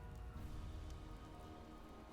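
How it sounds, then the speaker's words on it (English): Rain in an audio drama, a dense, steady patter of droplets on surfaces with a low rumbling undertone, continuous and close throughout. "it begins to rain"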